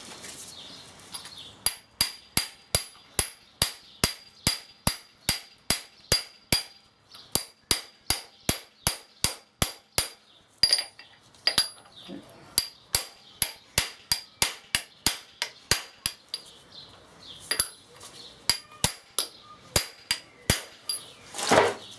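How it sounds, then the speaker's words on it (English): Hammer repeatedly striking a socket to drive a VW Beetle gearbox shaft seal into place, a long run of sharp, evenly spaced metallic blows, close and loud, with no talk. "we're going to send it home with our socket"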